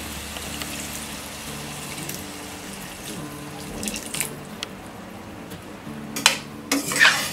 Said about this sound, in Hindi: में हम 1/2 कप पानी डालेंगे।